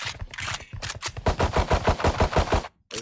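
Rapid automatic gunfire bursts in a video game, dense rattling volleys with brief gaps between them, loud and close, ending in a short silence.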